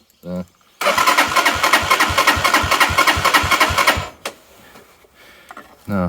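Starter motor on a Lifan King motorcycle cranking with the kickstand down, so the engine never catches: a loud, steady rapid whirring pulse lasting about three seconds, framed by brief speech before and after.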